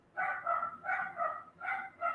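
A dog barks repeatedly in a steady rhythm, about six or seven moderately loud barks in two seconds with no talking.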